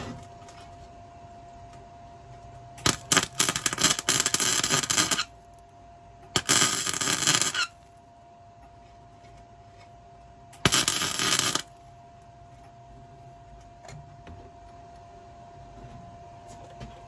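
Bursts of arc welding on metal for a tree-limb plant hanger crackle and hiss in three separate runs, each lasting a second or a few seconds, with quiet gaps and a faint steady hum in between.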